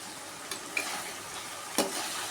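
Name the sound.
ivy gourd cooking and sizzling in covered pan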